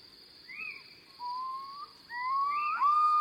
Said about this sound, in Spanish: Ululan los cárabos y en esa nota ondulante ya está la palabra ulular, la describe